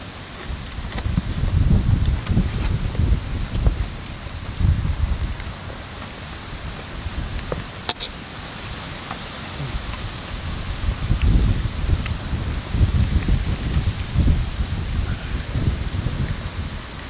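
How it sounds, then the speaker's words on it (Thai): Wind blows outdoors in gusts, rustling leaves with a steady broadband hiss that swells and fades, with low rumbling surges at moderate loudness and no voices. "ลมแห้งเนาะ"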